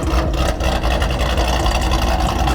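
A Corvette Z06 engine runs with its exhaust fully removed, a loud, raw, steady rumble that stays dense and unbroken for the whole moment with no voices over it.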